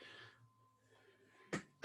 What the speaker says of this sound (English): I haven't sneezed all day, and then the second I start teaching